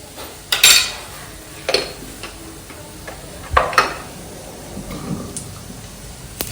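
Spoon scraping and clinking in a metal pan while dried prawn chutney is mixed, several sharp clanks and taps at irregular intervals over a faint sizzle, close and with no talk.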